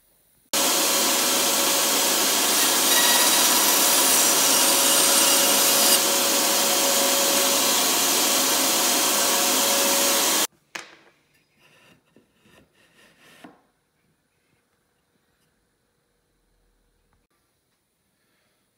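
Power saw cutting an angled wood piece for a Pietenpol Air Camper airplane rudder, a loud steady whine for about ten seconds, then stopping abruptly, followed by faint handling clatter and silence.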